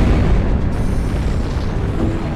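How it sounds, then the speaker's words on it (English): Fireworks exploding in the video game Robot Alchemic Drive, a dense, continuous rumble of booms and bursts that stays loud throughout with no clear gaps between blasts. "This is some fireworks."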